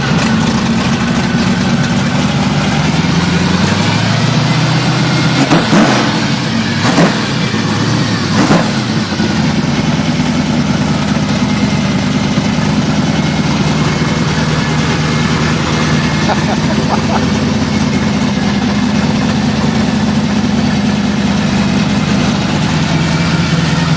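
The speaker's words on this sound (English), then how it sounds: "It's a 1965 Chevy 2, 383 stroker with a full roller." A 1965 Chevy II Nova pro street car with a 383 stroker engine and full roller cam idles with a loud, lumpy rumble, blipping the throttle a few times near the start while people talk over it.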